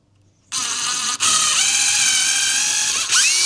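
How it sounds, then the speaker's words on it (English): A power drill with a 4mm bit bores a hole in wood, starting abruptly into a loud, steady whine with a brief dip as the bit bites, then continues evenly, alone and close. "So right now I'm gonna drill the holes exactly where my markers are."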